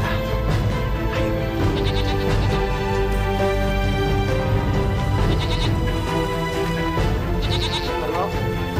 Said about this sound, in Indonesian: Sekarang kita gembalakan kambing dulu ya.